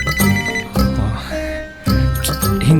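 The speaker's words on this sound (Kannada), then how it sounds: "ಒಂದು ನಿಮಿಷ, ಕಾಲ್ ಬರ್ತಾ ಇದೆ" A phone ringtone for an incoming call plays loudly and up close, a bright melodic tone repeating in bursts with short gaps between them over nearly three seconds, with no talk.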